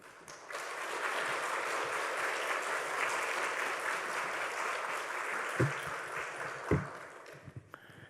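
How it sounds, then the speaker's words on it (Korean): Congregation at a Wednesday church service clapping to welcome the pastor to the pulpit, a steady roomful of applause that thins near the end into a few scattered claps and bumps. "우리 목사님 나오실 때 박수로 환영하겠습니다."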